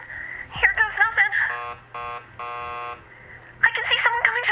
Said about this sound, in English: keep calm and ring the buzzer